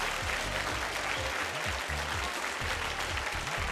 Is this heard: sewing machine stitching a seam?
no